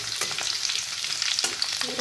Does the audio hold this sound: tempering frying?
yes